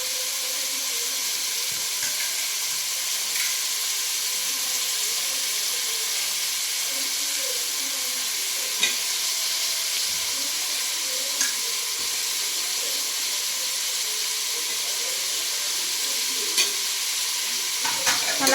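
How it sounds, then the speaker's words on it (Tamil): Fried rice sizzles steadily in a hot pan while being stirred, with continuous close frying hiss and occasional soft scrapes and clinks of the spatula throughout. "இப்போ நல்லா கிண்டிக்கலாம்."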